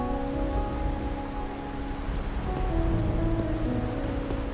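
Steady rain in the game Wuthering Waves, a dense even hiss of falling drops at a constant moderate level, with a faint low rumble beneath and no talk.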